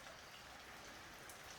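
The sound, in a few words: rain falling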